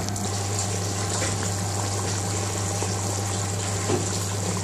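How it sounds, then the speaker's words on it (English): Water is poured into a pot of Bengali-style meat and potato curry, giving a steady, close liquid gush with a constant low hum beneath and no voices. "As you can see, we put some water, about a pint of water in now."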